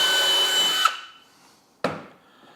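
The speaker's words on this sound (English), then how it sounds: "that is what is going to drill the perfect hole for the shelf pins" A power drill with a 5mm bit bores shelf pin holes in a wooden cabinet panel: a loud whirring burst cuts off and winds down, then a second run starts.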